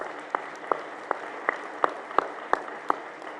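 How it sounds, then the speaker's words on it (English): An audience applauds at a lead-safe home summit keynote in Cleveland. The clapping is thin and scattered, with a handful of sharp individual claps standing out over a soft wash of noise. "We need to give them a round of applause"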